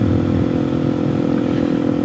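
A Suzuki DRZ 470sm motorcycle being ridden gives a loud, steady engine drone with wind rush, close to the rider, continuous through the short stretch with no talking.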